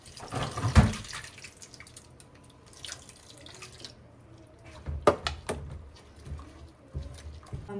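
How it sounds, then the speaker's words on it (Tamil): Tamarind water poured into fish masala for a Kerala-style fish pollichathu, heard as close dripping and splashing liquid with a sharp pour near the start and scattered wet patters after, no talk. "நம்ம கரைச்சி வச்சுருக்கிற புளியையும் ஊற்றி நல்லா சேர்த்துக்கலாம்"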